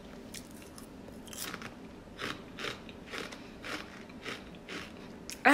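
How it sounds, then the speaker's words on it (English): Sugary dry cereal much like Cinnamon Toast Crunch chewed near the mic, regular crisp crunches roughly every half second, ending in a sudden louder clatter. "I'm gonna try this cereal dry first."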